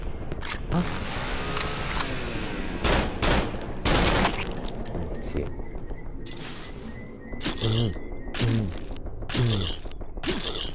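Video game Cry of Fear: sharp gunshots crack repeatedly over a dense, loud background of in-game noise and ambience, with a player talking throughout.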